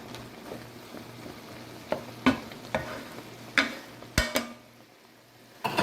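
Green peppers are stirred into a hot, sizzling skillet of Philly cheese steak filling, with a steady low fry broken by several sharp utensil scrapes and clacks against the pan.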